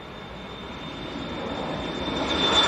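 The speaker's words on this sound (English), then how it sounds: "Jet 2 to Jersey, fairly short flight for that one, down to the Channel Islands." A Jet2 airliner roars at Leeds Bradford Airport, its engine noise steady and building louder over a few seconds as the plane nears, with no talk.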